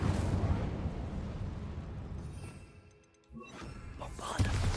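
Incendio fire spell cast in a Hogwarts game, a roaring burst of flame that fades over a few seconds, followed by a sharp crackle and a fresh whooshing surge.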